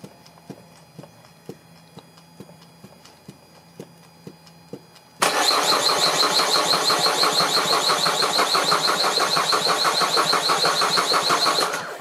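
Quiet rhythmic ticking, then the 1.6-litre diesel engine of a 2008 Peugeot 308 abruptly starts and runs loudly with a steady, rapid clattering knock until the end.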